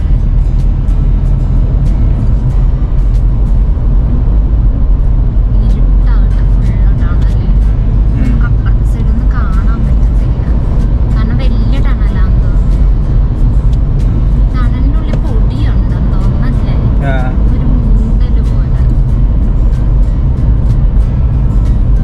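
A car driving through a long road tunnel on the way to Himachal, with a loud, steady, droning low rumble of engine and road noise throughout and voices talking over it.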